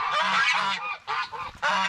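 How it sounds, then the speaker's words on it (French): Several geese honk loudly and close by, a rapid series of nasal calls overlapping with brief pauses between bursts. "Et là c'est les oies."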